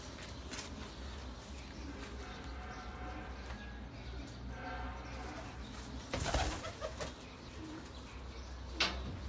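Racing pigeons at a flying competition coo softly and steadily over outdoor ambience, with a few bursts of flapping wings and faint voices in the distance.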